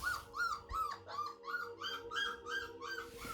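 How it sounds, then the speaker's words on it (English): Litter of three-to-four-week-old Springer Spaniel puppies whimpering indoors, a rapid series of high, thin rising-and-falling cries repeating about every third of a second, close and fairly quiet, with faint classical music underneath. "So the pups are quite vocal."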